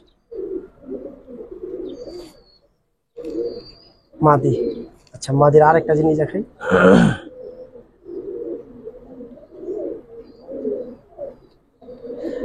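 Giribaz pigeons in a home loft give low, rolling coos close by, in repeated phrases at the start and end, with someone talking in between.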